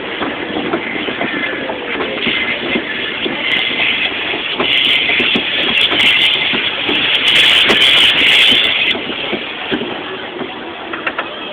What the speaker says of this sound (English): Me and Kelly on the main train.